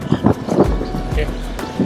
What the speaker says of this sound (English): the wind is like crazy